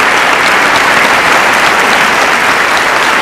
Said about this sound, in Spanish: Aplausos ahora a Su Majestad la Reina, que ocupa el palco de honor